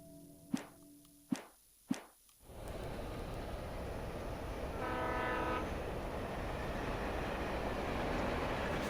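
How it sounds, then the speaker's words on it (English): Train rumbling through a depot area in the video game Alan Wake, preceded by three sharp knocks or footsteps, then a loud steady rolling roar with a horn-like tone swelling in the middle and continuing to the end. "Trains."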